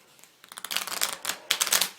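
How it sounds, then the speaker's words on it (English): A Bicycle Zombie Riders playing card deck is shuffled close up, with crisp riffling bursts of cards snapping together, two distinct riffles after a quiet start. "Actually, shuffle's not too bad, but I was having a little bit of difficulty shuffling it."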